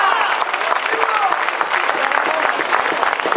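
An audience claps in a steady, dense burst of applause at a ceremony honoring a count of Barcelona, lasting the whole moment with a faint crowd murmur.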